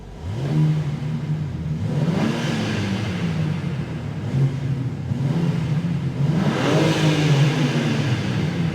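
BMW M4 Competition with no rev limiter, revved hard while stationary: engine roars up and down in repeated loud blips, the pitch climbing and falling several times, close and alone.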